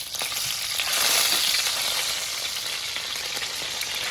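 Chicken frying in hot oil, a dense, even crackling sizzle that stays loud and steady throughout, with no voices.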